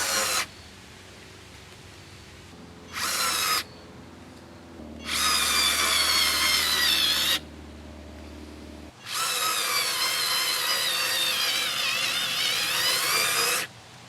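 Electric screwdriver driving a screw on its maximum setting, several loud, close motor whines in separate bursts, the last one long and sustained, with quiet gaps between them.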